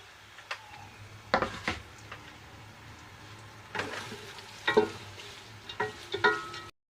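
Onions frying quietly in a pot, a faint low sizzle with a few clustered clinks and scraping stirs of a utensil against the metal, then a sudden cut to silence.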